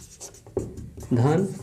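Handwriting on a board or page during a Class 10 maths lesson on real numbers, soft strokes running under a man's steady spoken explanation.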